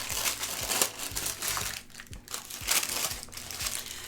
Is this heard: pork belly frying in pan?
no